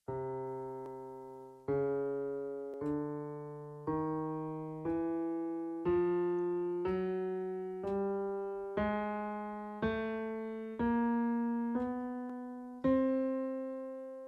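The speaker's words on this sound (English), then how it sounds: "Let's go ahead and hear what a chromatic scale sounds like." A chromatic scale played on a keyboard: thirteen separate notes climbing in half steps at an even, unhurried pace, each one ringing out clearly and then decaying.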